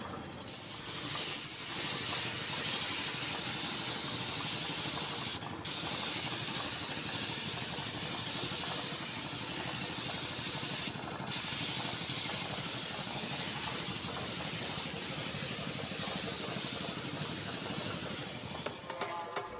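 Spray filler is sprayed onto motorcycle fairing covers in long, steady hissing passes from an aerosol can, close and continuous, broken by two brief pauses.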